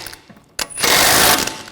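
Axle nut being snugged onto the front hub of a 2013-2019 Ford Escape during a lower ball joint job, heard as a close, loud burst of metallic ratcheting and grinding that follows a sharp clank.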